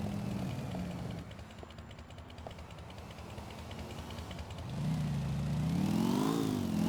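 A motorcycle engine in Grand Theft Auto IV drones steadily, then revs up into a louder rising and falling whine near the end, with other traffic engine noise underneath.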